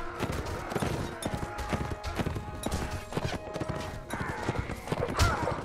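Horse hooves pound in a fast, irregular clip-clop as a rider gallops on horseback in the video game Mount & Blade: Warband, close and loud, mixed with scattered clashes and battle noise.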